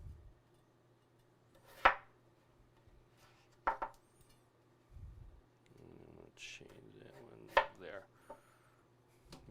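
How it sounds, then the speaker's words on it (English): A knife chops through a vegetable on a cutting board, cutting it into cubes for a potato, leek and garbanzo bean soup: a few sharp, separate knocks spaced seconds apart, with soft kitchen handling noise in between. "I'm going to cut it down the middle. And then I'm going to cut it in cubes."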